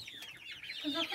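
Large young chickens cluck and chirp close by after being moved to a new pen, a short busy run of high calls with a faint voice in the background.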